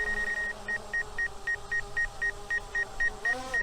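An Autel Evo II drone gives a steady run of short, evenly spaced electronic beeps, about a dozen in quick rhythm, over a constant motor whine during a forward and backward control check.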